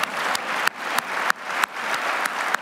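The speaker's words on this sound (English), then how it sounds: "You can clap for that, I would." Steady applause from a sizable crowd, a dense wash of clapping that continues throughout without talking.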